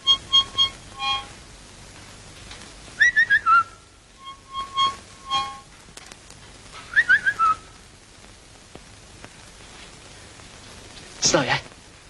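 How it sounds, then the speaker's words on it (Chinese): A cuckoo's two-note call repeats in short whistled bursts, clear and fairly near, with several groups of calls in quiet rural surroundings, people talking in between and a brief noisy rustle at the end. "布谷鸟"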